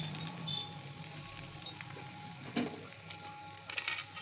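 Flattened rice pulao with ghee is gently stirred in a pan, giving a soft steady sizzle with light scraping and a few clinks, close and quiet, with no talking.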